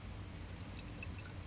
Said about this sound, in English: It's going to pour a little slow because there's only one hole